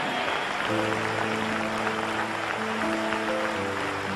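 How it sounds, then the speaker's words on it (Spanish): Church congregation applauding during a Spanish-language worship service, steady crowd clapping that holds evenly throughout, with sustained music tones running underneath. "Apláudele más fuerte."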